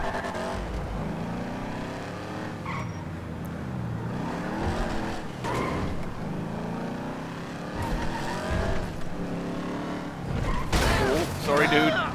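Cars race in GTA Online, with engines revving, tires squealing and crashes over steady game audio, while players talk throughout.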